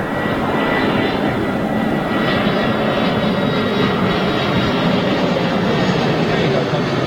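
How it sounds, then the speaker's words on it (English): An EasyJet airliner passing at Manchester International Airport, a loud continuous engine roar filling the whole stretch, close by and steady, with no talk over it. "here it comes, is it? Oh, this is EasyJet, and then the 380, right."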